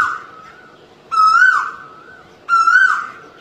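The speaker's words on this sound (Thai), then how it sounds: "ที่มีเสียงนกครับเสียงนกกาว้าเนี่ยมันเศร้ามาก" An Asian koel calls in a rubber plantation with two clear, loud, rising whistled notes over a thinner steady tone, close by, in an otherwise quiet setting.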